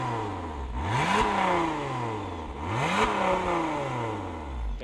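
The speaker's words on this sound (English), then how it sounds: "We're gonna do some revs with the valves closed first and then open, so you can hear the difference right away." A Lotus Emira engine revs with its exhaust valves closed, climbing twice in smooth rising sweeps and falling back, a muffled, steady mechanical drone at moderate loudness with no talking.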